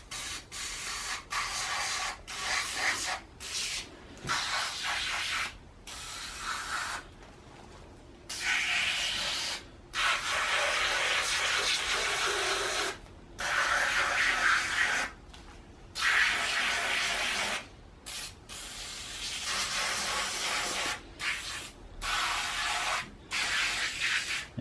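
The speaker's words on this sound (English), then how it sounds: "if I just go ahead and spray this into the EGR valve itself" Carbon cleaner is sprayed onto a removed EGR valve in repeated hissing bursts separated by brief pauses, close and steady, with no talking.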